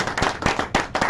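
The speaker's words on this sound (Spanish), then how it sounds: "Se pueden dar un aplauso a los muchachos" A church congregation applauds a group of young men, a short burst of close, loud hand claps with uneven sharp hits over the room's noise.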